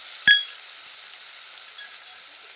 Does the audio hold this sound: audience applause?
no